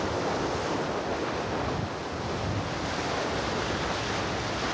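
Ocean waves and strong wind rushing against the racing yacht Rothmans during the 1990 Sydney to Hobart race, a loud, continuous broadband roar of surf and wind buffeting with no voices.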